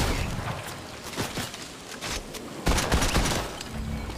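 Gunshots in a shooter game with shotgun squad play: dense, continuous rattling gunfire with several sharper close blasts, mostly alone without talk.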